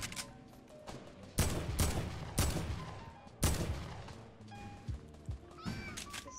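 Gunfire bursts in the Fortnite Battle Royale video game, several loud broadband cracks and volleys spaced a second or two apart over busy game sound, with faint talk in the background.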